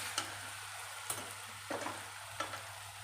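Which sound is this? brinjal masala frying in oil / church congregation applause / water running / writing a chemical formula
brinjal masala frying in oil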